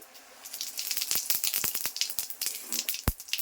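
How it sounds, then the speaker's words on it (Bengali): Cumin seeds are tempered in hot oil for a raw banana fritter curry. They crackle and sizzle in sharp, irregular pops and spits over a low hiss, close and moderately loud. "তেল গরম হয়ে গেছে আমি জিরা ফোড়ন দিচ্ছি"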